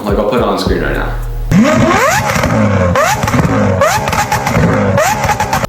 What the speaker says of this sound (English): the sound of this car is phenomenal